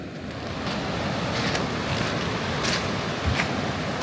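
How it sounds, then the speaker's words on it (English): Steady roar of North Atlantic surf rolling in on the Bay of Biscay, a continuous wash of breaking waves with wind gusting across the microphone and a few louder crashes, no voices. "So this is it, the Bay of Biscay,"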